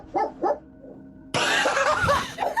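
A dog lets out two short yips, then after a pause a louder, breathy stretch of whimpering, barking vocalisation close by, with no one talking over it.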